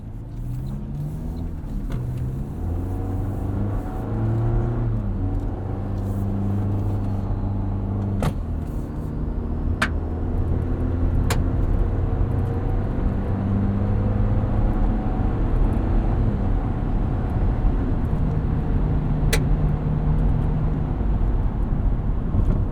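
A 2024 Toyota Tacoma SR XtraCab with the 2.4 turbo engine and eight-speed automatic cruises on the road, giving a steady engine drone with shifting tonal layers and a faint turbo whistle, no talk over it.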